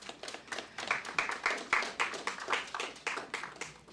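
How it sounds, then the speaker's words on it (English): Scattered hand claps from a modest audience at a church discussion event, a loose run of individual claps rising and fading over a few seconds with no talking. "So you should give yourselves a round of applause."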